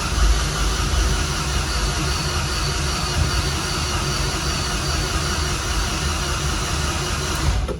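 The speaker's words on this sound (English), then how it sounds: "So I'm gonna hold the throttle wide open, we'll shut the fuel off," An MR16 engine cranks over on the starter with the throttle held wide open and the fuel shut off, a steady dense mechanical drone that runs unbroken and loud, close up, with no voices.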